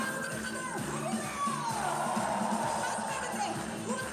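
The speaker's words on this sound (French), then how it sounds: "Des cris de joie plus forts, hurrah." A large crowd cheering and shouting for joy at a religious gathering, a continuous dense roar of voices with whoops, fairly loud and unbroken throughout.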